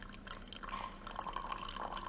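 Guatemalan coffee being poured, a steady close trickle of liquid running for about two seconds with a faint dripping quality, no talking over it.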